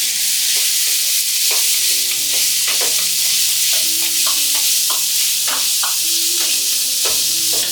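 Loud, close sizzling as pineapple fries in hot oil tempering, with repeated metallic scrapes and clinks of a spoon stirring, no voices.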